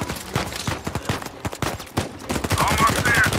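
Gunfire in the video game Uncharted 4: a rapid series of sharp shots in uneven bursts, loud and punchy, thickening into a denser barrage toward the end.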